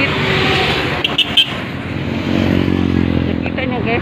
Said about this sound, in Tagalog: Nakita niyo guys, maraming sasakyan.